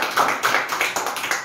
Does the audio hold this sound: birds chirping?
no